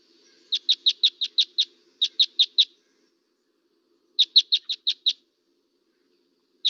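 Type 1 Red Crossbill, a winter finch, gives sharp, clear call notes in quick bursts of four to six, separated by short pauses, in a quiet outdoor setting.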